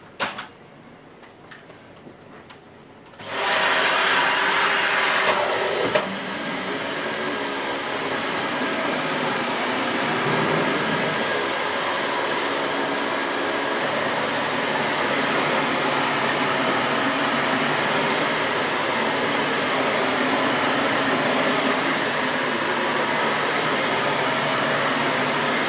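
Dyson Light Ball Multi Floor vacuum cleaner from 2017 switches on after a few seconds of quiet and runs on as a loud, steady, close whooshing drone.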